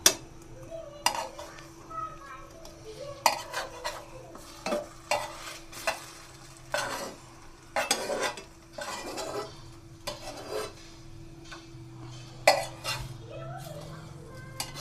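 A patishapta, a rolled Bengali crepe with kheer filling, frying in a pan as it is turned and rolled, with steady soft stirring, scraping and spatula taps against the pan over a faint sizzle, close and fairly quiet.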